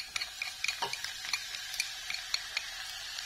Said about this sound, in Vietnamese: Mình phi tỏi.